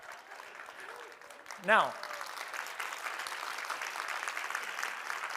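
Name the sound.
audience clapping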